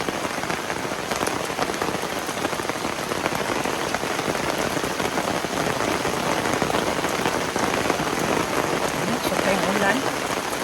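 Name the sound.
rain falling at a highland resort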